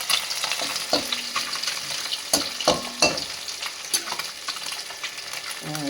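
Small puti fish dusted lightly with flour sizzle steadily in hot oil in a pan for a recipe with onion seeds, with the crackle of frying broken by several sharp scrapes and stirring knocks, close and fairly loud, no talking.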